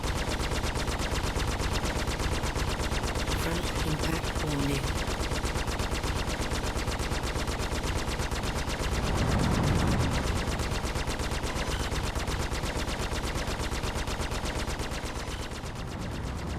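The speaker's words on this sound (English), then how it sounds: "the 2 sucker punch distortion cannons are good for about 20 shots, and the Badger repeater lasts" Rapid, unbroken automatic cannon fire from a spaceship's repeater cannon in a video game hammers on for the whole stretch, fast and even, with a brief deeper rumble partway through.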